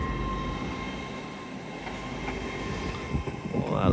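A Class 66 diesel freight locomotive on the East Coast Main Line rumbles through York station with a steady rail drone and a tone, growing louder and rattling nearer toward the end.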